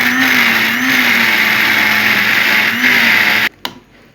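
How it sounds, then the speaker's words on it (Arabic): A blender mixing cream cheese runs loud and continuous with a wavering motor hum, then switches off abruptly near the end, followed by a brief clunk. "وهنضربه كويس بقى في الخلاط لغاية لما يبقى"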